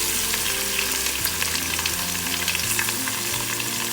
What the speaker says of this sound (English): So mustard seeds are nicely spluttering now.